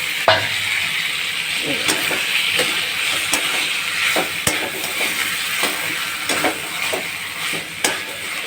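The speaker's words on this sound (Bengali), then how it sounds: "এইবার আমি সব ঢেলে দেবো মাছ তার কাঁঠাল আলু সব একসঙ্গে দিয়ে আমি কষিয়ে নেব" Prawns, jackfruit and potato are tossed into a cooked spice paste for a Bengali dalna, sizzling loudly and steadily while a spatula scrapes and knocks against the pan at a regular pace, with no one speaking.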